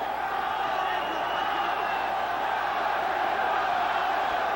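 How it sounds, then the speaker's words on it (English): Boxing arena crowd at a Julio Cesar Chavez vs. Kostya Tszyu world light welterweight title fight, a steady, dense roar of cheering and shouting that holds evenly throughout. "The crowd again tries to summon up something for Chavez."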